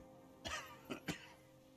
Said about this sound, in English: He coughs once more, then puts his hand on his belly.